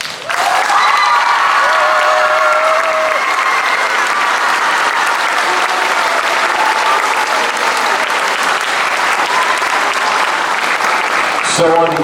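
A crowd of students and staff at Oak Avenue Intermediate School applauds to honor staff member Will Sabalburo. The clapping is loud, sustained and evenly dense for about twelve seconds, with faint voices mixed in.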